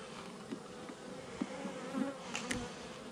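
Honeybees hum inside an opened hive that is infested with maggots and roaches, a steady close buzzing drone with a few louder passes near the microphone and no speech.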